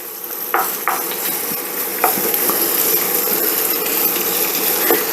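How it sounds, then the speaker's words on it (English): Vegetables sautéing in a pan over rising heat, a steady sizzling hiss with a few sharp stirring scrapes and clacks from a utensil, close and continuous with no talk. "we just want to saute these till they just start to soften"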